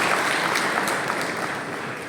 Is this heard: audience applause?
yes